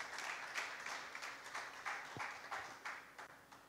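Church congregation applauding, a soft steady patter of clapping that swells and fades in waves, moderately distant and not very loud.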